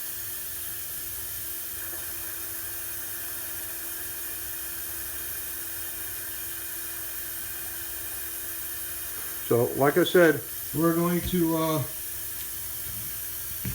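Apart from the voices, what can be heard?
kitchen tap water filling a 1 gallon milk jug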